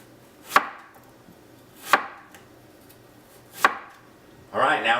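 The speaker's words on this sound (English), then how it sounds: "Then go to town and start slicing this up" A knife slices through fish on a cutting board for a banh mi sandwich, three crisp, evenly spaced chops about a second and a half apart, close and distinct, followed by a brief rustle.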